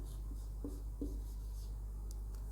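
Marker or chalk writing on a classroom board during a Hindi biology lesson, a few short scratchy strokes over a steady low hum, faint and close.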